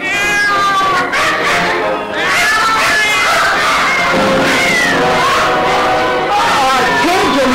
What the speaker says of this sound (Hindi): म्याऊ म्याऊ करते हुए बिल्ली कूद कर उसके कान से बाहर निकली